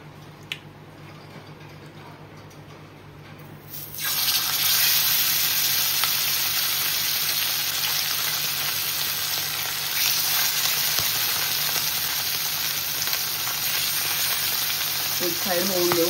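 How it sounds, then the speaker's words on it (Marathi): Marinated fish pieces dropped into hot oil in a pan, a quiet start that bursts into a loud, steady sizzle of frying that fills the rest of the clip, close up and without talk. "आता जे आपण हे मॅरिनेट केलेले मासे आहेत ते टाकूया."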